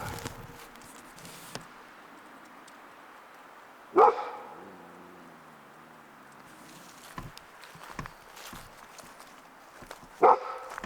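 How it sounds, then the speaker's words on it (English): A dog barks at a wooded campsite, two sharp loud barks spaced several seconds apart, with quiet rustling and faint outdoor sounds between them. "What are you barking at right now, man?"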